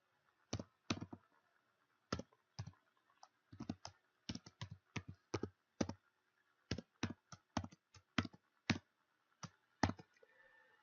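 Keys clatter on a computer keyboard while a formula is entered into an Excel spreadsheet, coming as quiet, close taps in short irregular runs with brief pauses between them.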